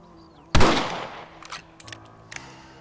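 A single sharp rifle shot in the Western game Red Dead Redemption rings out loud and close, then fades. A few faint clicks and small knocks follow.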